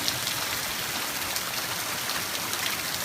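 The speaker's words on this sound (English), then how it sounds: "beautiful rain in the hollow. I mean, it is coming a gushing." Heavy rain pouring down in a wooded hollow, a dense, steady hiss of drops on surfaces, even and continuous throughout with no voices.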